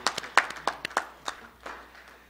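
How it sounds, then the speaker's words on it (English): A small group at a school board meeting applauds with sparse, distinct claps that start crisp and fade out within a couple of seconds in a quiet room. "So I think that actually deserves a round of applause."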